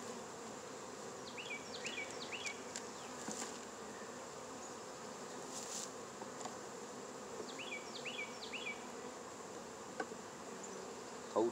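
Honeybees hum inside a hive in Fairplay, Maryland, on a cold, damp February day, a steady low drone with a few closer buzzing passes, heard alone without voices.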